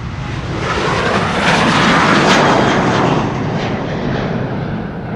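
A Sky Express Boeing 737-800 jet departing Amsterdam Schiphol Airport roars loudly and steadily, swelling to a peak midway and then slowly easing, with no voices.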